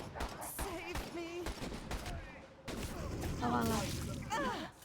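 Gunfire in the video game Evil Dead: The Game comes as a series of quick shots scattered among excited voices of players talking over one another, with game effects throughout.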